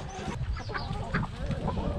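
Hens clucking close by as they eat feed pellets in a farmyard, with a steady scatter of short clucks and soft fowl calls over a busy, low background.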